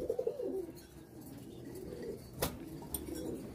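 A pair of pigeons kept in a loft cooing softly, low repeated coos near the start and again later, with a brief clatter partway through, all faint against a quiet room.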